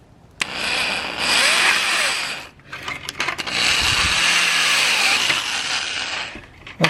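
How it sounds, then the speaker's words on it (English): A power drill bores holes into a Subaru WRX fender, two sustained whirring bursts at close range separated by a brief pause, with small clicks and a short clunk between them. "we drill our holes first"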